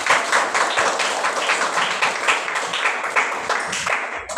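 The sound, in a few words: applause, class clapping hands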